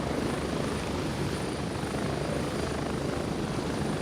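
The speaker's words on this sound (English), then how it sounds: "I wonder how much this little helicopter ride would cost me." A helicopter in the Gray Zone Warfare video game flies steadily close by, a loud, continuous rotor and engine roar with no break, and no voices over it.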